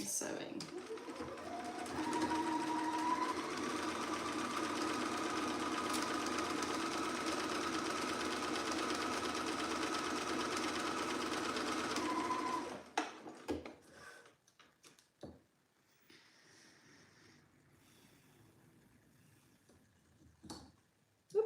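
A domestic sewing machine stitching dress seams runs in a steady, close whirring drone for about twelve seconds, then stops. After that come faint fabric handling, rustles and small clicks.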